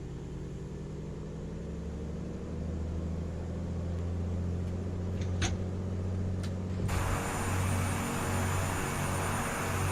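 Aircraft engine in a flight simulator game throttling up, a steady droning hum with tonal bands that jumps to a louder, fuller roar partway through and holds there.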